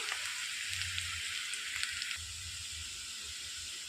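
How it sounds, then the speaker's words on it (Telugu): Thinly sliced onions fry in a pan for a raw banana masala curry, giving a steady, close hissing sizzle that continues throughout. "సన్నగా తరిగి పెట్టుకున్న ఉల్లిపాయలు వేసుకొని వేయించుకోవాలండి"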